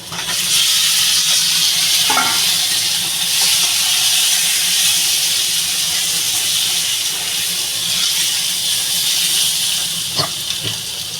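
Potatoes tipped into hot oil seasoned with coriander and cumin powder for a Bengali egg-and-potato curry, giving a loud, steady sizzling hiss that runs throughout with a few sharp pops.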